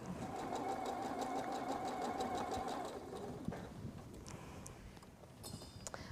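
A sewing machine stitches a quilt block for a Rising Star quilt, running as a steady rapid whir for about three seconds and then stopping, with some handling clatter and rustling of fabric afterward.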